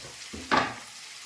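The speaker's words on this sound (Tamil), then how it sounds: "இப்போ தக்காளியை போட்டுக்கிறேன்" Chopped tomatoes drop into hot oil in a pan with a short burst of sizzling, followed by a quick stir and fading fry noise.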